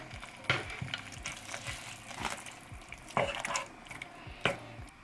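Salmon going into a gently simmering pan sauce with parsley and coriander, soft sizzling and bubbling with repeated clinks and scrapes of a utensil against the pan, quiet and close.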